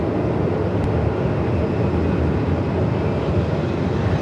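Saab turboprop landing at Melbourne Airport in 45-knot winds, a loud continuous roar of engine and gusting wind with heavy low rumble, sustained and close, no voices.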